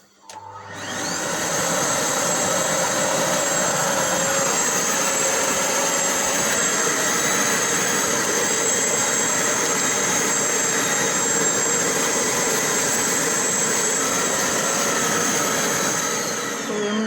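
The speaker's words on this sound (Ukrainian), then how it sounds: "Тепер треба все дуже гарно пропилососити. Включаємо пилосос." A vacuum cleaner runs continuously over fabric sofa upholstery after cleaning with Denkmit carpet and upholstery cleaner, starting up quickly and holding a loud, steady whooshing roar close by.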